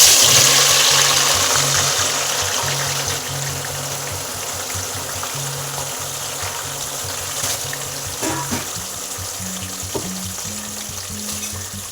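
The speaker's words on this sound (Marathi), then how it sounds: "आता आपण कांदा टाकूया." Onions sizzling as they fry in hot oil for chicken dum biryani, a steady loud hiss and crackle from the pan that settles slightly after the start, with a faint low hum beneath.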